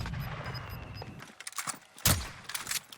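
Gunfire in Call of Duty Warzone, a quick burst of shots followed by sharp single cracks and a heavy thump, mid-distance over game ambience, no talk.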